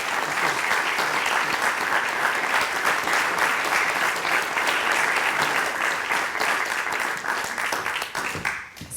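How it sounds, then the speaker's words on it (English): Sustained applause from an audience at a city manager meet-and-greet, dense continuous clapping for about nine seconds that thins out toward the end. "let's give him a round of applause and a welcome"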